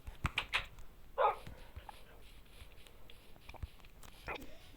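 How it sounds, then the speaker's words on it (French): A dog gives a few short yips and a whimpering bark close by, sharp bursts scattered over a quiet background with faint rustling and movement between them. "il faut prendre le chien"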